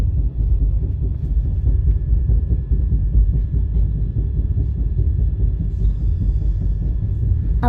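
Train rolling into a railway station near Mookambika, a heavy continuous low rumble with faint metallic screeches toward the end, loud and close.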